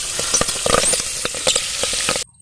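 Spices, garlic, ginger, bay leaf and peas sauté in hot oil with turmeric and cumin in a pot over a wood fire, a close steady sizzle broken by scraping stir strokes and small crackles, ending in sudden silence.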